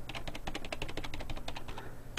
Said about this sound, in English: I've just got to go through every single button on the keyboard.